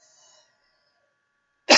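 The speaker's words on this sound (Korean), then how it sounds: "기침이 나요." A single short, sharp cough bursts out near the end after more than a second of near silence, loud and close.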